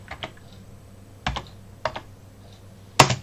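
Typing on a computer keyboard during a French-language check on a GNU/Linux setup, heard as a few sparse, close key clicks with pauses between them and a sharper final keystroke.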